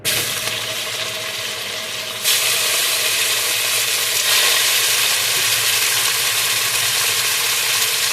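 Three room-temperature chuck steaks seasoned with salt and pepper sizzle loudly and steadily as they brown in a hot pan, with the hiss swelling once partway through as more meat hits the surface.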